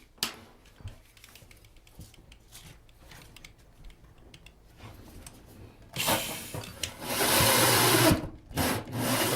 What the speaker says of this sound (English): So now I'll drill through our subfloor.